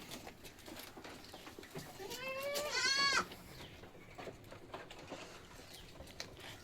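A single milking nanny goat bleats once, a wavering, quavering cry lasting about a second, heard close over a low background of rustling and faint ambient noise.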